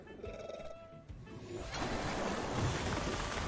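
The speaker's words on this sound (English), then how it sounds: "So they did Water Cannon into Tyrannak" A Water Cannon attack in a Temtem competitive battle bursts in after a quiet moment, a loud whooshing, surf-like spray of water that swells and keeps rushing to the end.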